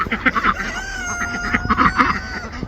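A rooster crowing nearby on a homestead, one long drawn-out call with clucking from other chickens around it.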